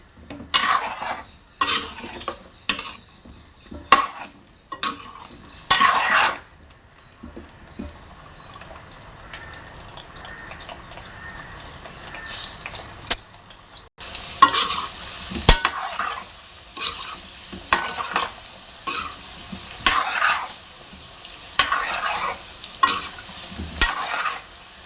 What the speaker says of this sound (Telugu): దగ్గరుండి వీటిని కదుపుతూ ఉండాలి